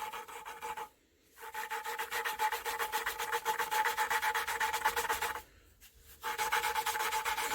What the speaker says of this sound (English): it's going to seat that valve in there good, and any imperfections, it's going to grind them down